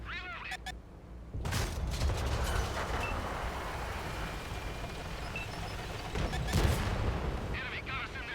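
A tank firing high-explosive shells in an online tank battle game, with repeated blasts over a steady rumble of engine and battle noise and a few short game beeps. A voice talks over it in places.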